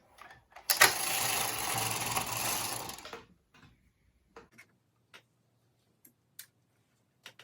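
Bond knitting machine carriage pushed across the needle bed to lay in ravel cord, a dense mechanical rattling sweep lasting about two seconds, followed by scattered faint clicks and ticks.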